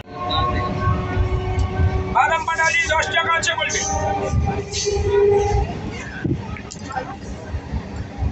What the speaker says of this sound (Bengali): হাওড়া স্টেশন থেকে ট্রেন এখন যাচ্ছে খিরায়ের দিকে